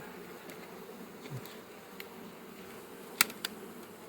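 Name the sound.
honeybee colony buzzing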